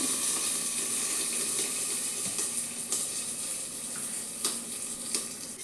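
Capsicum fries in oil in a pan for a North Karnataka-style palya: a steady, close hiss of sizzling with scattered crackles and pops, and no talking.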